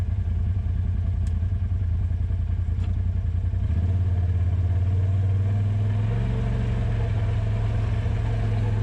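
A Honda Talon side-by-side engine labors up a rocky trail climb, a close, loud chugging drone whose low pitch rises and shifts partway through as the throttle changes, with faint clatter.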